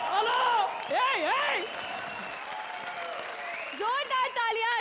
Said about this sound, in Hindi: जोरदार तालियां शरद भारती और परेश के लिए।